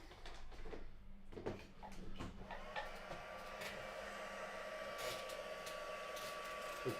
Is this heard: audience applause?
no